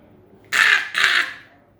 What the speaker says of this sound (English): there was a crow